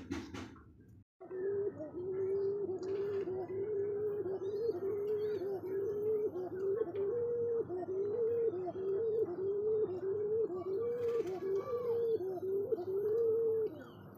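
Pigeons in a loft coo continuously, low rolling calls overlapping one another fairly close by, with faint chirps in the background after a brief bump at the start.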